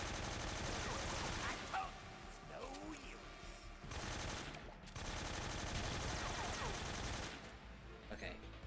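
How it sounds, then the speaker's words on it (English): An AK rifle fires in Metal Gear Solid 3, long sustained bursts of automatic gunfire with a short break midway, loud and dense, with a voice speaking over the shooting. "let's go with the AK for a second"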